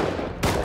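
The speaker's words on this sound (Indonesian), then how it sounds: "Oh, dari belakang aku ditembak ternyata" A single sharp gunshot fired from behind in the video game Rust, one close, loud crack with no talking.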